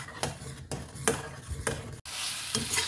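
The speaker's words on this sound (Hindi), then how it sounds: "इसको थोड़ा मसाला के साथ भूनेंगे तो मसाला अंदर तक जाएगा" Taro (arbi) roasting with masala in a pan, a steady sizzle broken by repeated scraping stirs at a regular pace, close and fairly loud, with a brief cut near the end.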